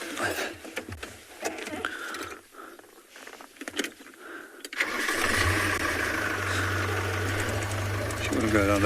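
A safari vehicle's engine cranks and catches after a few seconds of talk and rustling, then settles into a loud, steady idle rumble close by.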